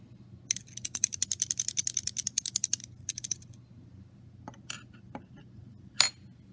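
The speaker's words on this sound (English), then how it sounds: "I'm going to want to use a clean stirring rod to stir that mixture." A clean glass stirring rod stirs a reacting mixture in lab glassware, giving a fast run of bright clinks and taps, then a brief pause, a few more taps and scattered single clinks over a low steady hum.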